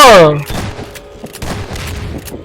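Gunfire bursts in Garry's Mod inside an abandoned building, a rapid fusillade of muffled shots and thuds running throughout after a short opening sound, with voices talking over it.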